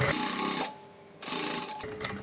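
A sewing machine stitches piping onto the side slit of a kameez, whirring in a steady buzz, pausing briefly, then running again before stopping near the end.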